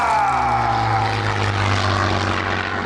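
A Supermarine Mark II Spitfire propeller plane roars past, its loud engine drone sliding down in pitch as it passes, steady and close throughout.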